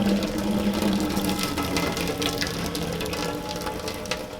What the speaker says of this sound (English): So let's drain the water off.